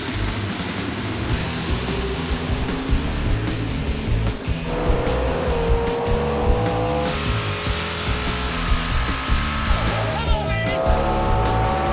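A 1978 Camaro drag racing in an eight-second all-out class at Route 66 Raceway, its engine roaring loud and steady with a rising whine, mixed with crowd and track noise and a voice over the din.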